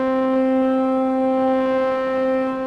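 A sampled FM op delay patch plays through a sampler in VCV Rack: one continuous, buzzy, organ-like synth note holds steady and fairly loud with a slight drifting swell.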